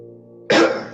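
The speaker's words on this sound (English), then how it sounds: "I have to cough, sorry." A person coughs once, loudly and close, a harsh burst that cuts through a steady droning tone playing underneath.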